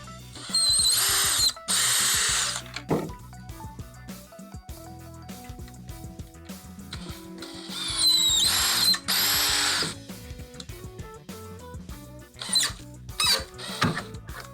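A power drill drives a screw into a threaded insert on a custom speaker pod for a 2014-2018 Toyota Tundra front door, with loud whirring bursts in short, repeated runs, pauses of ratcheting and clicking between them, and no talking.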